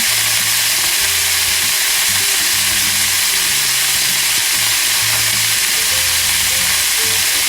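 Beef searing over high heat in a hot pan with a little salt, a loud, steady sizzle and frying hiss running without a break, with faint clatter from stirring underneath.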